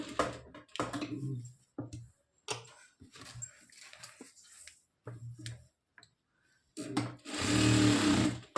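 A sewing machine stitches a blouse in short bursts of rapid mechanical whirring and ticking, stopping and starting several times, with one longer, louder run of stitching at the end.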